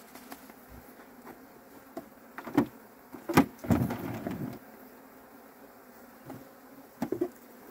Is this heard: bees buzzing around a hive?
yes